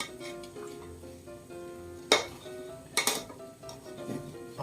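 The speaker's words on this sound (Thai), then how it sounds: "ต้องคนอยู่เรื่อยๆเลยนะครับ เพราะว่ามันจะติดกระทะนะ" Metal utensils clink and scrape against a pan in a few sharp bursts, over a quiet kitchen background with faint sizzling.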